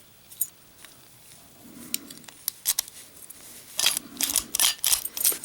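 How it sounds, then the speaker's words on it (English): Metal keys for a disc practice lock jingle and clink in short bursts. Sparse taps come first, then a denser rattling flurry near the end, close and with no speech. "And these keys do work."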